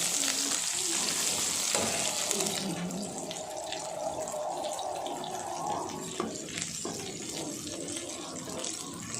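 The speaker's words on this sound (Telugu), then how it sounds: "ఈ ఆనియన్స్ బ్రౌన్ కలర్లో వచ్చేంత వరకు వేగనివ్వాలి" Onion pieces and bay leaves frying in a pan for a country chicken curry, a continuous close sizzle with faint watery crackle and occasional stirring sounds throughout.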